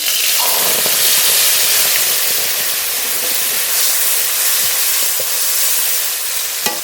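Ground spice paste of coriander, cumin, dried chilli and ginger hits hot mustard oil tempered with cumin seeds, giving a loud, steady close sizzle and hiss with faint stirring ticks throughout.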